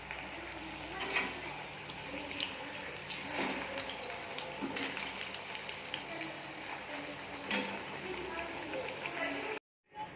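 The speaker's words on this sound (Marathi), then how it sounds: "बटाट्याचे चिप्स तळून घेते मी पटकन" Potato chips for fasting fry in hot oil in a home kitchen, giving a faint, steady sizzle and crackle that runs for several seconds before cutting out briefly near the end.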